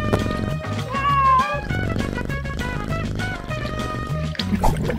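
A pet cat meows once, with a clear, drawn-out call near the start, set against steady background music and a soft watery trickle, with no talking.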